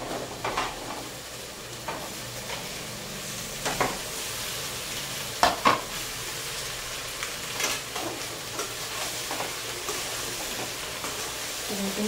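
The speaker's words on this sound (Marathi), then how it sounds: "सगळा मसाला चांगला भाजून घ्यायचा." Masala spice mix roasting in a pan with oil, a steady close sizzle under repeated scraping strokes of a spoon, with a couple of sharper knocks against the pan midway.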